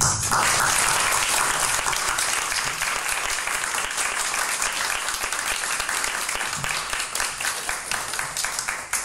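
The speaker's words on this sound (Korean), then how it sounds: "목사님 앞에 큰 박수로 이제" A church congregation at a revival meeting gives the pastor a big round of applause, sustained loud clapping throughout with a faint voice underneath.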